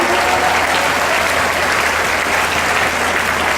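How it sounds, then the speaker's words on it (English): Dense, sustained applause from a graduation audience fills the room, steady and loud throughout with no break. "we're going to keep the applause rolling"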